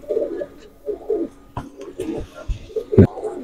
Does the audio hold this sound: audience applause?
no